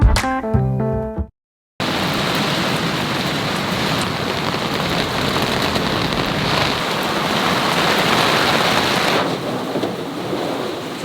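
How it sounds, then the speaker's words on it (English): A sudden rain squall with roughly 40-knot wind hits a sailboat, dense rain drumming and roaring wind filling the air at full strength after a brief moment of silence, with no talking. "We got like 40 knots and rain."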